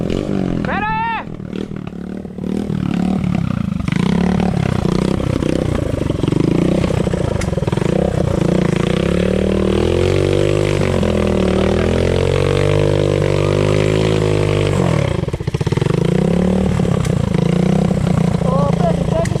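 Motorcycle engine rumbling steadily while riding in the rain, loud and continuous throughout, with excited voices talking over it and a sharp rising whine near the start.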